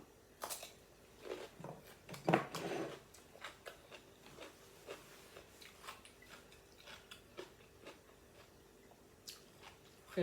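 Quiet, close chewing of turkey steak with chili and vegetables, with soft crunches and clicks in an irregular rhythm, faint and alone.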